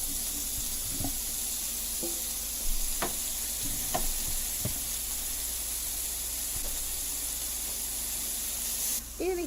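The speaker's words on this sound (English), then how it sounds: "I like to test it with a tiny piece of pork to see if it's hot enough. And if it is, then I like to throw it in there and get that sizzle going." Pork pieces browning in a hot pan on a kitchen stove give a steady soft sizzle and hiss, with a few brief clinks and stirring sounds on top.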